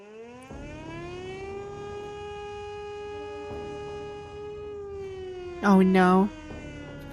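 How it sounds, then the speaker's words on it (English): An air raid siren in the video game Punishing: Gray Raven wails in a long, steady, sustained tone, loud and continuous, with a brief spoken exclamation over it near the end. "A piercing wail suddenly blares from above. It is the air raid siren."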